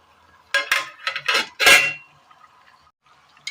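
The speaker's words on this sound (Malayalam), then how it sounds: "ഇതിന് മുകളിലായി ഒരു മൂട കൂടി വെച്ച് കൊടുക്കാം" Metal lid set down on a steaming dish inside a pressure cooker during Kerala-style cooking, a short run of clattering metal-on-metal clinks and scrapes, close and fairly loud, then quiet.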